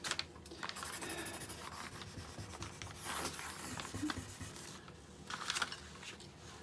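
Colored pencils drawing marks on paper, a soft, continuous scratching and rubbing close by, with small bursts of stronger strokes.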